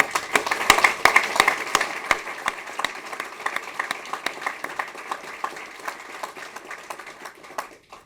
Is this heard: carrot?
no